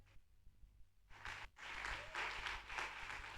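Audience at a church conference breaking into applause after a brief quiet pause, a soft, somewhat distant clapping that swells and holds steady to the end.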